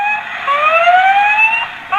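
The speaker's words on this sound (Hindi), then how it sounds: "ऐसे सायरन बज जाएगा।" Close, loud electronic wail from a toy siren at a toy store, rising sweeps repeating with a brief break before restarting, heard on its own.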